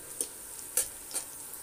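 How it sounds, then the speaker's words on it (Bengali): Potatoes and cumin frying together in a pan make a faint hiss, broken by three soft scraping strokes of stirring at a gentle, uneven pace. "আলু আর জিরা একসাথেই আমি ভাজতেছি"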